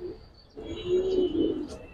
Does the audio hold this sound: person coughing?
no